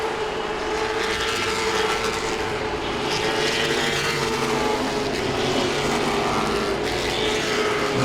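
Late model race cars at Langley Speedway drone loudly and steadily past, engines blending into a sustained roar that rises and falls slightly over several seconds, with no voices.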